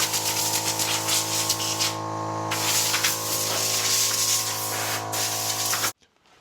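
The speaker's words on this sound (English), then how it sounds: "I don't remember that air compressor sounding like a Model T starting while simultaneously throwing sparks everywhere" An air compressor runs with a loud, steady droning hum and hiss for several seconds, then cuts out abruptly into near silence.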